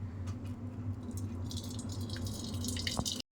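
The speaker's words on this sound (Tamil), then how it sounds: "நல்லா தண்ணி வடிஞ்சிச்சு" Boiled vermicelli draining through a strainer set over a vessel, with a steady close trickle of water and scattered drips pattering down for a few seconds against a low background hum.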